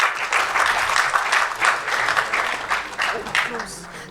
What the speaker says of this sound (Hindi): सबके लिए तालियां बजाइए एक बार.